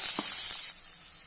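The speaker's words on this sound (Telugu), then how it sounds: "ఇంకా ఉల్లిపాయ వేసుకుంటున్నాను" Onions and tempering spices hit hot oil in a pan for a mushroom fry, giving a short, bright sizzle that drops off quickly to a quiet, low crackle.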